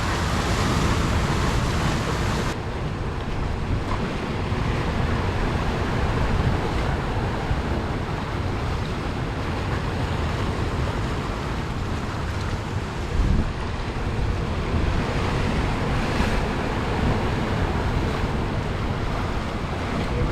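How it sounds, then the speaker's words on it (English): Ocean water surges and crashes on rocks in a loud, continuous roar, with heavy wind buffeting the microphone and no voices. "There's a nice surge of water."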